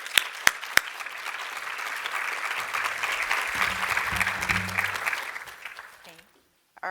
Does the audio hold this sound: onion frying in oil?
no